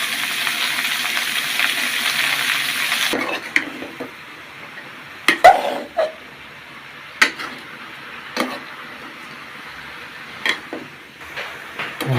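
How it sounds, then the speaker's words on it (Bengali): Cabbage fries in oil with salt and turmeric, a steady hiss of sizzling at first, then quieter stretches broken by sharp clinks of a spoon stirring against the pan. "আমাদের বাঁধাকপিটা ভাজি করা হয়ে গেছে"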